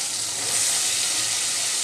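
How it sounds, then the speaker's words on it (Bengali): Taro stolons (kochur chora) sautéing in a pan for a shrimp curry, giving a brief, even hiss of sizzling heard close up with no talking. "এটা আমি কচুর ছড়া দিয়ে 2 মিনিট কষিয়ে নিলাম।"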